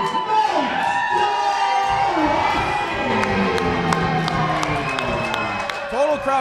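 Crowd at a heavyweight triple-threat fight cheers for a fighter introduced as a crowd favorite, a loud sustained roar with whoops and applause under an announcer's voice.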